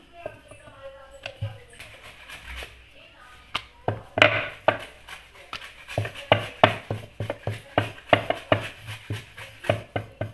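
Roti dough being rolled round with a rolling pin makes a steady series of close wooden knocks and thuds, about two per second, growing firmer after the first few seconds, with a faint voice near the start.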